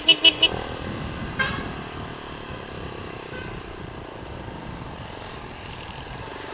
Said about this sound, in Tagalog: May bumubusina sa atin, tropa.